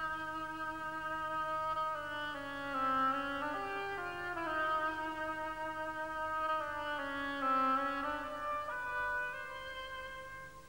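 Solo oboe playing the duck theme from Peter and the Wolf, a slow, reedy, nasal melody of long held and gently bending notes, steady and close for about ten seconds with no voices.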